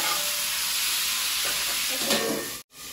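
Food fries in a pan with a dense, even sizzle and hiss that holds steady, then cuts out abruptly for a moment near the end.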